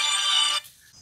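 A GSM home alarm system places a call to its registered phone, producing a brief bright electronic ringtone burst that cuts off after about half a second, close and fairly loud with no talk.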